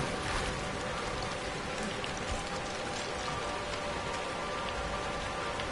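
Steady rain pours down in the video game Outlast 2, a constant broadband hiss of drops on surfaces that stays even and close throughout, with no talking over it.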